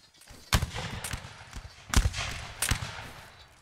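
Musket volleys in the Napoleonic Wars line-battle game: several sharp, loud cracks at irregular intervals, some close and some farther off, with scattered smaller pops between them.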